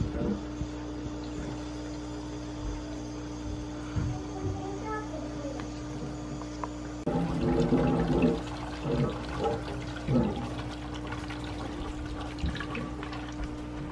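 Water flows into an FX6 canister filter on a 125-gallon aquarium, a steady rushing and gurgling that grows louder and more turbulent midway, with a constant low hum underneath.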